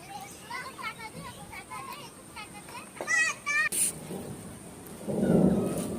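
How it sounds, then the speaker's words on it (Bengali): Low distant thunder rumbles across an open rooftop on a hot, still afternoon before rain, swelling toward the end, with children's voices and brief bird-like calls above it. "মেঘ গুরুম গুরুম করে ঢাকছে কখন যেন বৃষ্টি চলে আসবে"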